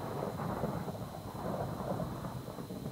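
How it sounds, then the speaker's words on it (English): Thunder in the video game ARK rolls as a steady, low rumble with a hissing wash layered over it, continuous and moderately loud throughout. "It's not raining. Why do we have thunder?"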